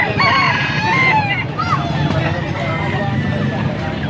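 Rooster crowing amid a busy live poultry auction, with harmonic crow-like calls rising over constant crowd chatter and bidding voices throughout.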